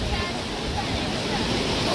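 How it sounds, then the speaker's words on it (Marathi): Sea waves at Devbagh beach wash in with a constant broad roar, swelling slightly louder toward the end as a bigger wave rolls in. "बाप्पा लाटा बघ, ही मोठी लाट."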